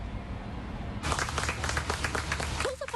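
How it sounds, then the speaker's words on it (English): A crowd bursts into applause for firefighters bringing out a man freed from tornado damage; steady clapping starts about a second in and continues densely to the end. "Firefighters got a big round of applause this morning as they brought out a man who they freed from tornado damage"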